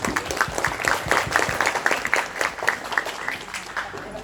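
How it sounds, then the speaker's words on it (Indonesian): Audience applause for Kakak Hanif at an anti-bullying and study-motivation outreach session at an Islamic junior high school, a steady wash of many hands clapping throughout, fairly close and loud. "Tepuk tangan dulu untuk Kakak Hanif."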